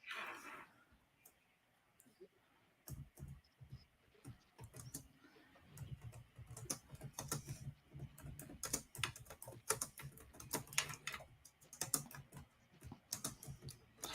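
One-finger typing on a keyboard, with irregular, quiet clicking taps that start sparse and grow more frequent. The taps are close and soft, and a voice speaks faintly at times.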